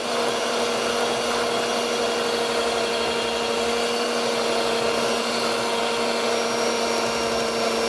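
A Moulinex Type 116-2-02 electric hand whisk runs steadily on its turbo setting, giving a continuous loud motor whine with a high buzzing hum that holds even for the whole stretch.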